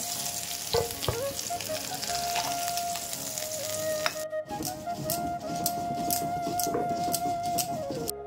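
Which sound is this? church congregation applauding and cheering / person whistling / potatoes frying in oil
potatoes frying in oil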